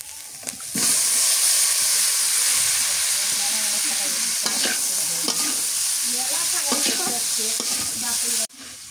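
Cauliflower is stir-fried with spices in a pan, giving a loud, steady sizzle with repeated scraping and stirring strokes that continue until it cuts off abruptly near the end.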